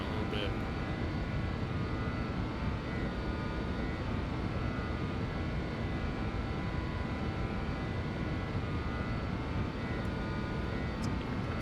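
Jet engines of a JustFlight BAe146 airliner in the X-Plane 12 simulator drone in a constant, loud, broadband roar throughout, with no break in the sound.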